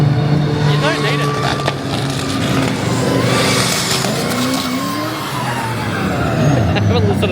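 A Toyota Corona drift car at a drift event, its engine revving hard with rising and falling pitch over a steady mechanical roar, close and loud, with people talking over it.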